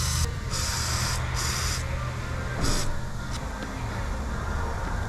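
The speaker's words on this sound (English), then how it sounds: "I'm gonna get some nut blaster, soak it." Nut Blaster penetrating oil sprays onto spark plug threads on a 2007 Jeep Wrangler in several short, close hissing bursts over a steady background rumble.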